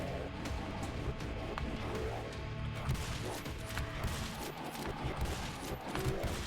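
Steady rattling machine gun fire in the video game Penance, a continuous rapid stream of shots at moderate volume with no speech over it.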